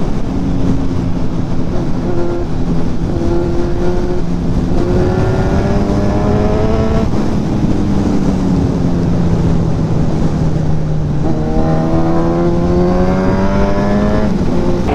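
A Ducati Panigale 959 motorcycle engine roars loud and close while riding, its pitch climbing and falling through repeated revs and gear changes with no talking.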